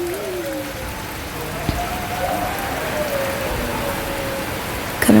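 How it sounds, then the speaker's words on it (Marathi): Rain falling outside a house, a steady, even hiss of drops on surfaces that continues for several seconds with faint tonal sounds behind it and a brief louder knock near the end. "किती मस्त वाटते पाऊस पडतंय"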